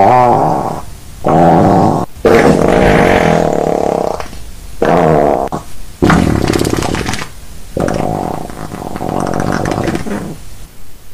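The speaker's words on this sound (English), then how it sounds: "I just love farting." Long, loud, wet fart noises from an animated cartoon character, a string of sputtering bursts with short gaps between them and no speech.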